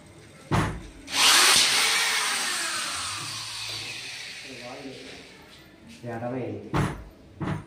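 A power drill drives screws into PVC ceiling panels, with short close whirring bursts and a longer run that trails off, while people talk nearby.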